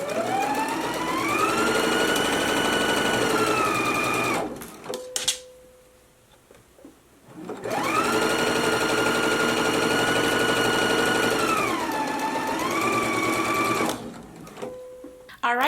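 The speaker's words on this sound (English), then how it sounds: "then we can go to the machine and stitch it at a 5/8 of an inch seam allowance" A sewing machine stitching a side seam of a twist-front top with a 5/8 inch seam allowance, two long loud whirring runs separated by a brief pause with a click, close and alone.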